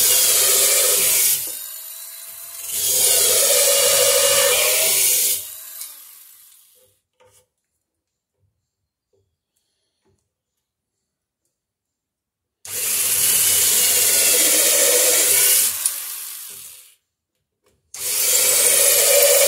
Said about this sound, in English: We got the drill set at the right depth.